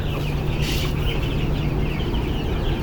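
Chickens clucking amid a dense, constant wash of noise, the birds faint and scattered rather than distinct.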